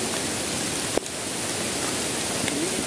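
Rain falls on a mountain, an even hiss of steady rainfall with a single brief knock partway through.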